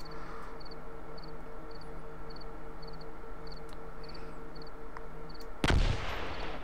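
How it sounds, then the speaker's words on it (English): An explosion in the Combat Mission Market Garden war game, a sudden loud blast landing near the end after a stretch of quieter ambient game noise, with faint periodic chirps in the background beforehand. "There goes that explosion there."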